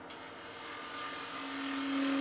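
A bowl gouge cutting into a wooden goblet spinning on a lathe, giving a steady, smooth whirring hiss that slowly builds in strength, close and continuous, with no voices.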